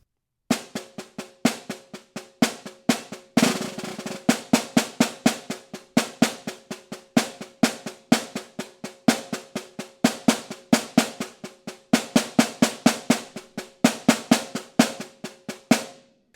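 Snare drum played slowly in an all-state band audition excerpt: a steady stream of crisp strokes mixing soft notes with strong accents, close and dry with no voice.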